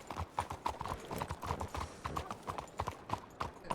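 Horse hooves clip-clop in a steady repeated rhythm at close range, with a faint whinny woven in among the footfalls and some low background noise throughout.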